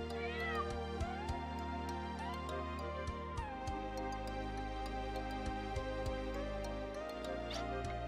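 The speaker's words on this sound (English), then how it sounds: "Oh, black cat." A black cat meows inside the video game Wild Arms 2, soft drawn-out cries set over steady in-game music with small ticking sounds, fairly faint and with no talk.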